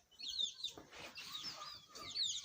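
Fighting-breed chicks and a hen clucking and peeping close by in a Sindh, Pakistan yard, several short overlapping calls over faint background noise.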